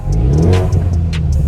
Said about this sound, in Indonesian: Kalian dengar dari sini, gua buka. Ini bunyi sport.